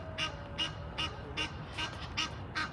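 Ducks in a park give a regular series of about seven short, nasal quacks, fairly close and moderately faint, with no voices.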